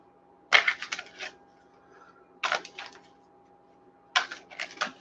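Someone shuffles a deck of cards during a tarot-style reading, producing three distinct riffling bursts of quick crisp flutters, each about a second long and separated by quiet pauses, close to the microphone.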